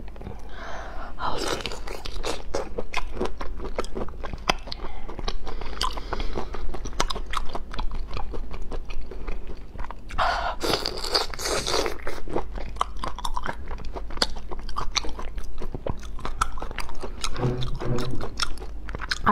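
Someone eats spicy seafood prawns close up, with repeated sharp crunching bites and wet chewing that go on steadily throughout, with no talk.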